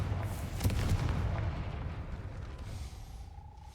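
The Confringo spell in the Hogwarts Legacy video game sets off a single blast, a deep booming burst followed by a rumbling fade and a faint high tone toward the end.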